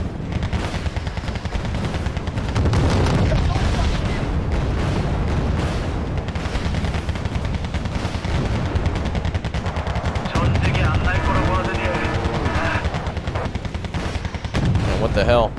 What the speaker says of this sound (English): we've got 6 tanks firing at them